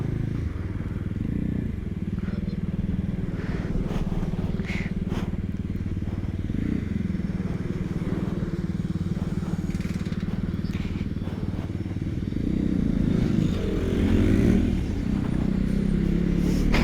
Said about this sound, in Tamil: பயங்கர டிராஃபிக் போகையா.